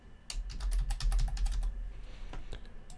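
Fast, irregular clatter of keys on a computer keyboard, fairly close and steady for about three seconds, with no voice over it.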